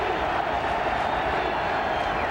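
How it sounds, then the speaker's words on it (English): A college football stadium crowd at the 2005 Florida vs. South Carolina game roars loudly and steadily, a dense wall of voices with no break. "Listen to this crowd."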